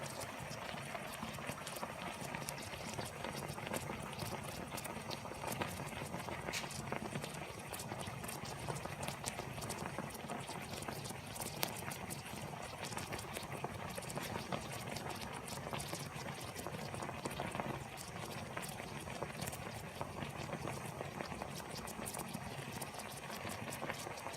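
A pot of parkerizing solution boils and bubbles continuously, a faint, dense, even seething with no talk.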